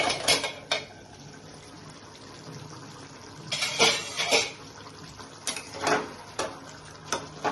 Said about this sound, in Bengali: ঢাকনাটা তুলে দেখছি